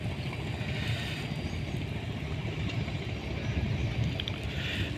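Rain falling on a Bangladeshi river where sand-carrying trawlers are moored, a continuous hiss over a low rumbling wash of water and wind that stays steady and even throughout.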